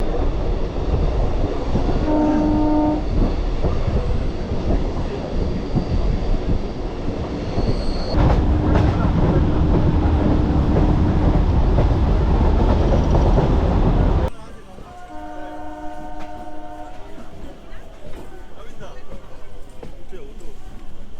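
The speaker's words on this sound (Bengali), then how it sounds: "লোকাল ধরে আমরা এগিয়ে চললাম নামখানার দিকে" A Lakshmikantapur local train rolls through dense fog toward Namkhana, its loud, steady rumble broken by a couple of sustained horn blasts, before the noise drops to a quieter running hum with more horn tones.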